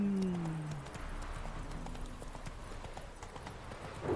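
Galloping hooves of the horse Roach in the video game The Witcher 3 on Death March difficulty, a steady clip-clop rhythm running throughout, with a brief whinny-like tone near the start and no talk.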